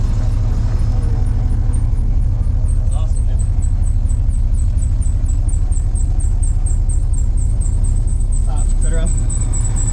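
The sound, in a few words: 1986 Chevy Caprice engine running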